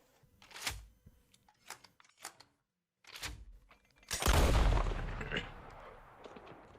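In the video game Red Dead Online, several sharp, separate gunshots ring out one at a time, then a louder blast sets off a sustained roaring rumble that slowly fades.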